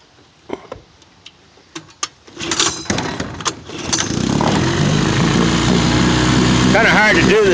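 A 1953 Elgin 5.5hp outboard motor with a cleaned carburetor and new coils, first a few clicks and pull attempts, then it catches and runs with a loud, steady, close-up drone.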